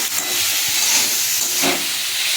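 Chopped tomato and green chilli hitting a hot frying pan, a loud, steady broadband hiss of sizzling that holds throughout with a brief surge near the end, close and alone.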